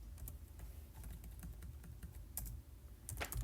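Typing on a computer keyboard while writing HTML, CSS and JavaScript code for a chatbot website, a close, fairly quiet run of irregular key clicks with a few sharper taps.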